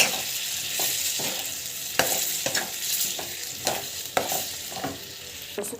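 Spinach masala sizzles steadily in a frying pan while a spoon stirs it, with repeated sharp scraping clicks over a constant close hiss.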